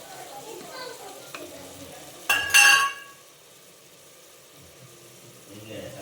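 Chilli powder stirred into a frying pan at home, a sudden loud sizzle with spoon scraping lasting under a second amid quiet kitchen noise.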